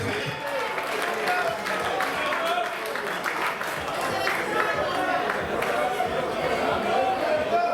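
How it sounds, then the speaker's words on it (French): An audience at a political gathering in the DRC applauds an expert, a steady wash of clapping mixed with crowd chatter throughout, fairly distant and continuous. "Est-ce qu'on peut applaudir pour notre expert?"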